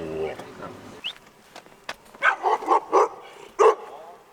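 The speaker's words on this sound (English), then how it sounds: "Where's he barking at?" A dog barks several times in a quick series of loud, close yaps, following a brief stretch of background music.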